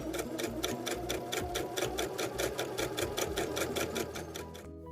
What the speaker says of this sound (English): Place the 2 right sides together inside of each other and sew along the top edge.